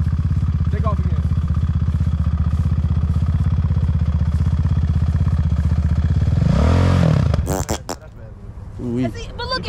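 Quad bike engine running a lap, a loud, steady close-up drone that surges and revs near the end before dropping off. Voices talk toward the end.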